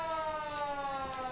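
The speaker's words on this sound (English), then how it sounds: "That siren you're hearing in the background is the Vernon Volunteer Firefighters Association. They are driving today their 1934 Ford ladder truck." Siren of a 1934 Ford ladder fire truck driven in a winter carnival parade: a sustained, slightly falling wail sounding from some distance in the background.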